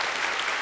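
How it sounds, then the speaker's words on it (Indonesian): Audience applause at a Sinau Bareng Cak Nun KiaiKanjeng gathering, a short steady burst of many hands clapping, fairly loud and dense, with no talk over it. "Oke, tepuk tangan."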